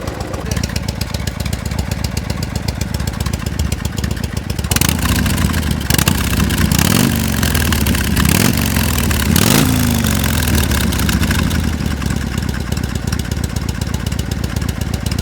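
A 1980 Harley-Davidson Sturgis 80 cubic inch motorcycle engine idles loudly and steadily nearby, its rhythmic chug rising briefly with a few throttle blips midway before settling back.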